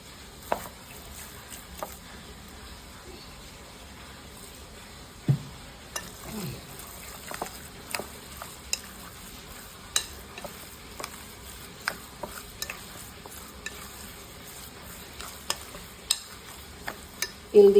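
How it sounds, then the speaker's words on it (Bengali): A spoon stirs sesame seeds and oil, giving scattered light scrapes and clicks at an irregular pace over a quiet background, for momos made with sago pearls. "আবার একটু ভালো করে চামচ দিয়ে নেড়ে নিলাম"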